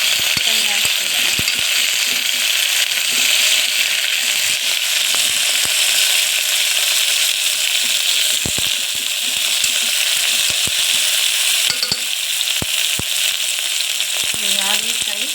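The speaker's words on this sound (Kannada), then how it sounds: "ಈಗ ಹಾಗಲಕಾಯಿ ಹಾಕ್ಕೊಂಡು ಒಂದು ಸಲ ಸ್ವಲ್ಪ ಫ್ರೈ ಹಾಕ್ತಿದ್ದಾನೆ." Bitter gourd pieces frying in oil, a loud continuous sizzle with frequent crackles and spoon scrapes against the pan, steady throughout.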